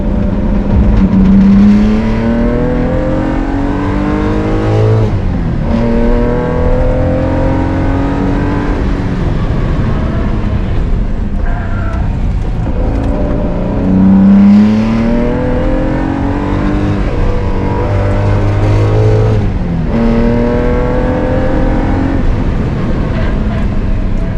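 A Datsun 280Z sports car engine races loudly and close, misfiring as it revs up repeatedly through the gears with a rough, stuttering edge.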